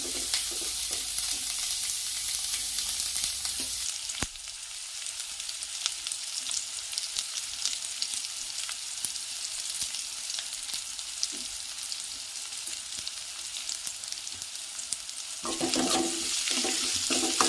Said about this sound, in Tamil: நல்லா வதக்கிக்கோங்க. நல்லா ப்ரௌன் கலராக வர வரைக்கும் நல்லா வதக்கிக்கோங்க.